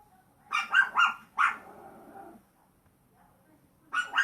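A dog gives a few short barks and yelps close by, one of them trailing into a growly whine, then pauses before barking again.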